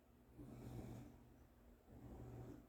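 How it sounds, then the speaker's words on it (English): A French bulldog asleep in its bed snores softly, two slow drawn-out breaths a couple of seconds apart, faint and close with a low rumbling texture. "if you hear the snoring in the background, that is my dog."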